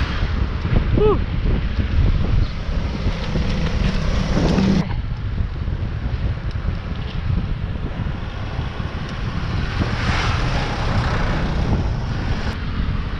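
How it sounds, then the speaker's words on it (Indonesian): A strong wind blows during a bike ride near the coast at Pantai Tanjung Pasir, pushing a constant low rumble and buffeting against the microphone with no break from start to finish. "anginnya kenceng banget."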